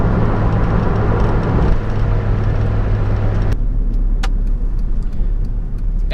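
A turbocharged Mazda Miata's engine drones loud and close, a steady low roar that drops in tone partway through before carrying on under faint ticking.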